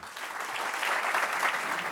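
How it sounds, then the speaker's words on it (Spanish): An audience applauds to welcome a speaker at an evening lecture, a steady sustained clapping that holds at an even, moderately loud level for two seconds with no voices over it. "Recibamos con un fuerte aplauso al doctor Yossi Goldstein."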